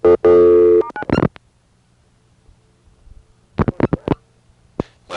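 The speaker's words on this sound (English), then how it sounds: "dialing *9 and hanging up." Touch-tone dialing of *9 on a 1983 Centrex telephone line, a dial tone cut short by quick separate tone bursts, then a quiet pause and another cluster of short beeps close up.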